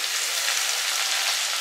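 Garlic paste hisses and sizzles in hot oil in a frying pan with fried onions, a bright, steady crackling close up with no voices.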